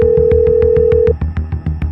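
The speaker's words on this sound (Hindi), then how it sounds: "देर रात अभय के पास सानिया का फोन आया।" A telephone ring tone sounds during a late-night call, with a steady held tone at first, then a quick regular series of electronic pulses, loud and close with no talk.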